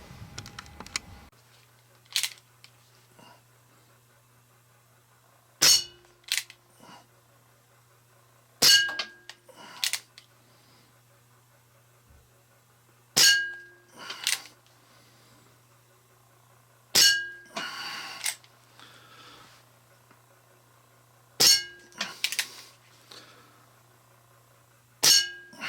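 Pellets from a replica Colt Peacemaker airgun strike a small cast iron skillet target in a basement, each shot a sharp metallic clang spaced a few seconds apart, with a faint low hum between hits.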